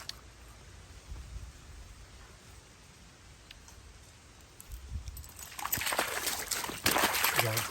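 Footsteps slosh and splash through a shallow creek while a dog tugs on its leash, quiet at first and then building into steady, louder splashing and trickling water close by.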